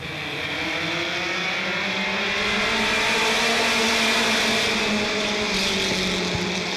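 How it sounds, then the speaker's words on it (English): Mini stock race cars roar around an oval track during a 12-lap feature race, engines droning loud and steady with a rising and falling pitch as the pack passes close. "This is a 12-lap feature race in the Mini Stockers."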